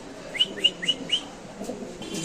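A bird gives four quick, evenly spaced chirps close by, followed by quieter background rustling and faint distant calls.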